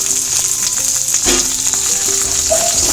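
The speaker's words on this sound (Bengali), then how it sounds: "টমেটোটাকে পেঁয়াজের সাথে ভেজে নেব" Chopped tomato frying with onions in oil in a pan, heard close as a loud unbroken sizzle with occasional stirring scrapes and a spatula knock, and nobody talking.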